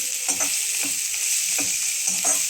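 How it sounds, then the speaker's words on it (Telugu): Onions fry in a pan for a potato curry, giving a steady loud sizzle throughout. A spoon stirs them every half second or so, adding soft scraping strokes, close up with no talk. "ఇంకా ఆనియన్స్ వేగాలి, బాగా వేగాలి."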